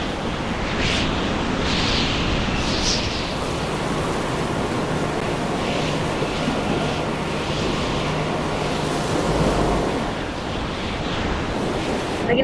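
Heavy storm waves in the Stormworks video game roll and break around a nuclear-powered cargo ship in a snowstorm, a loud, steady rushing roar with swelling surges and wind, no speech.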